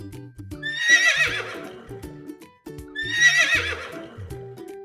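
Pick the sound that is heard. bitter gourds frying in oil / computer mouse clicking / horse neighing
horse neighing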